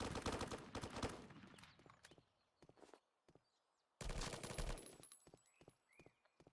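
Gunfire during MARSOC military training: rapid bursts of shots crack close by, then a quieter stretch with scattered single shots, followed by another loud volley and more isolated reports.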